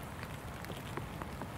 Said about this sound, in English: the rain's starting to come in really heavy